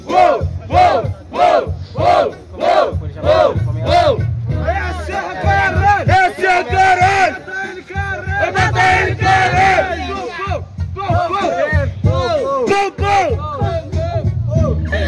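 A large crowd at a rap battle semifinal in Nova Friburgo cheers, whoops and shouts in loud, energetic bursts, with voices rising together in rhythmic chants and a hubbub of babble throughout.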